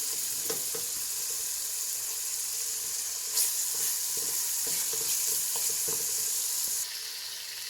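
Chicken curry masala with potatoes and bay leaves sautéing in a pan, a continuous close frying hiss with scattered soft stirring scrapes, dropping slightly in level near the end.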